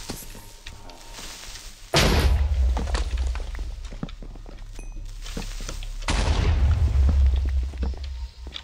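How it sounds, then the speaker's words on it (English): A burst of heavy booms and rapid popping blasts in a Minecraft-style game, two big loud waves of explosions with crackling debris between them, no talking. "That is a lot of explosions."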